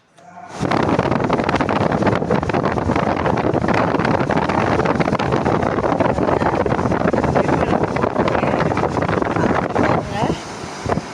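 A household air cooler runs at high speed during hot weather, producing a loud, steady rush of blowing air that continues without a break.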